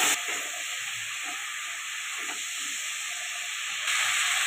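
Spice paste for a Bengali small-fish jhal sizzles and steams steadily in a kadai with a little water, a continuous close hiss with no talk.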